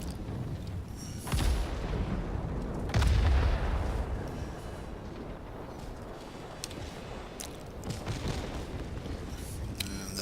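Rocket explosions from a P-38 fighter in World of Warships: two heavy blasts a couple of seconds apart, each with a low rumble that fades, followed by lighter distant pops over continuous engine and battle noise.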